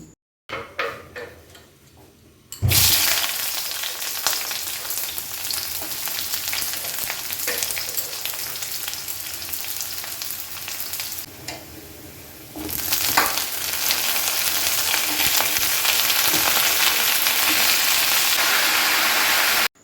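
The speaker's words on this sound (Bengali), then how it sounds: "এবার এটাকে ভাজবো, তাই কড়ায় তেল দিচ্ছি" Snake gourd frying in hot oil in a wok: a loud, steady crackling sizzle that starts abruptly, dips briefly, then swells even louder.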